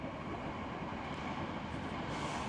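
Inside a fast-moving train in Japan, running at about 100 to 120 km/h: a continuous, fairly quiet rumbling roar of wheels and carriage noise, steady from start to end.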